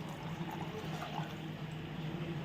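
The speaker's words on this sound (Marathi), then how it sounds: "दूध ओतलंय इथं खीर झालेली आहे" Milk pours into a pot of kheer in a home kitchen, a steady, even liquid rush lasting throughout with no breaks and no voices.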